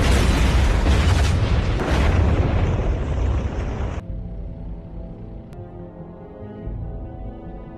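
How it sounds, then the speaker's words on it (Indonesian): Navy SEALs blow up a damaged helicopter: a loud, broad roaring blast that rumbles and slowly fades for several seconds, then cuts abruptly to a quiet, low tonal background. "pasukan Navy SEAL pun meledakkan heli yang rusak tadi"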